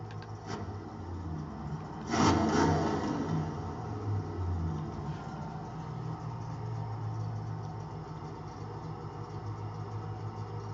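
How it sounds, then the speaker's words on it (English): Chevrolet Corvette V8 from Forza Horizon 4 idling, a low steady engine rumble with a brief louder rev near the start, then an even burble throughout; no talk. "I can hear the V8 idling."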